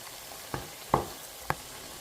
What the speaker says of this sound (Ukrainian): Всякі десь треба і перемішати, аби це все рівномірно прожарювало.